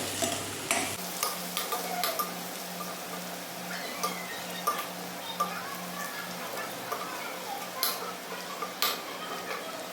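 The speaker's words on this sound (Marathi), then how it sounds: "याला तेलामध्ये थोडंसं परतून घ्यायचं" Finely chopped garlic, coriander and green chilli sautéing in oil, a soft steady sizzle broken by scattered clinks and scrapes of a spoon against the pan, close and quiet with a faint hum early on.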